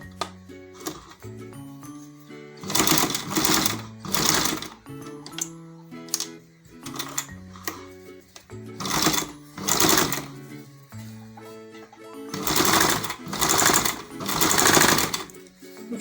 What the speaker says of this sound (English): make sure you're sewing at the end so that the threads won't be so noticeable